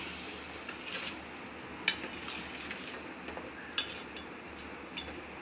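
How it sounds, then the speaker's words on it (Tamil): A spoon scrapes and stirs brinjal curry in a pan with a faint sizzle, quiet rubbing and a few light clinks against the metal. "இதை ஒருக்க நல்லா கிளறி விட்டுட்டு"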